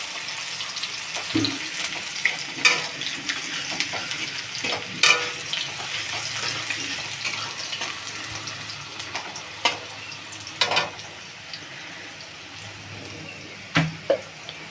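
Onion frying in oil for a light chicken curry, a steady crackling sizzle with occasional sharp pops and stirring scrapes, no one talking.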